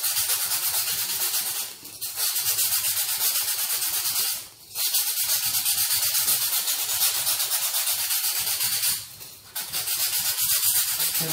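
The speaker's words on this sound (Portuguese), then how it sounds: "com uma lixinha que eu tô usando uma lixa de MDF, tá? Ó, uma lixa fina, né? Vamos tirar essas imperfeições." Fine sandpaper rubs across an MDF piece in long steady passes, a loud close hissing scrape that stops briefly three times before resuming.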